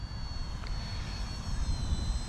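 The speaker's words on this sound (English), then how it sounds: "This is a scale sports helicopter." Esky 150EC mini RC sports helicopter flying outdoors, a steady whining rotor and motor drone with a thin high tone above a constant low rumble, unbroken and moderately loud.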